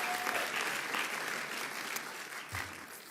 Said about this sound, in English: Can we give another round of applause to the governor for her commitment to Central Brooklyn?